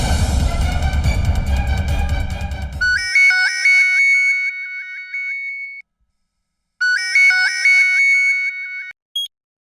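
A telephone rings with a bright electronic melody in repeated bursts separated by short silences, loud and close, following a brief stretch of dense background noise.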